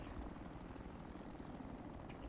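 A helicopter's rotor chop and engine drone fill a video game combat scene, a continuous muffled thrum at low level, steady with no talking, as the aircraft flies away.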